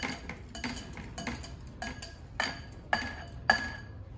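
A spoon stirs carrot muffin batter with oil in a bowl, giving repeated close clinks and scrapes against the bowl in an irregular rhythm.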